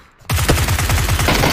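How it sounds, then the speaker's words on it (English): Dense video-game gunfire from many shooters at once, a loud rapid burst of overlapping shots that starts suddenly after a quiet moment and keeps rattling without pause. "there's so many people shooting at us"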